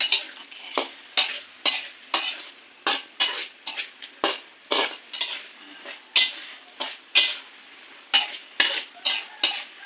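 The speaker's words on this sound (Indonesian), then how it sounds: "Nah, kita aduk-aduk lagi seperti ini teman-teman ya, diaduk-aduk." A spoon scrapes and stirs repeatedly through sardines and sautéed banana blossom in a frying pan, giving about twenty quick rhythmic strokes over a soft sizzle, close and clear with no talk.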